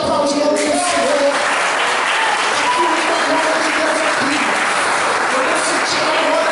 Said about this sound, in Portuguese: Igreja, aplaude o nome do Senhor.